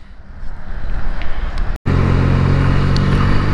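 A Benelli 300 motorcycle engine running loud and close, a steady throaty drone that cuts out for an instant and then returns with a deeper, stronger rumble.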